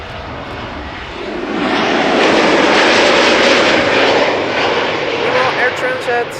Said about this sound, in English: A321 Neo. Touching down.